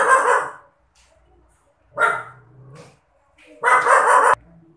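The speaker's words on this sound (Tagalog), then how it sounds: "Ingay kasi ng aso." Three loud bursts of dog barking, close by, separated by short quiet gaps, with a little faint background noise in between.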